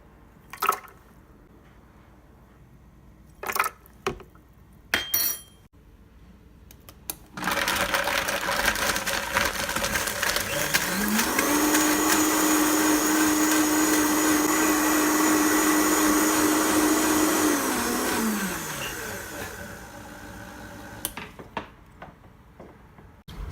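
A kitchen blender whirs through water and cashews for cashew milk, starting with a rising whine, running loud and steady for about ten seconds, then winding down, with quieter clinks and handling before and after.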